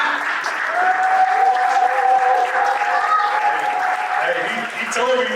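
An audience at a men's public health discussion session applauds a performer, with sustained loud clapping throughout and voices calling out over it.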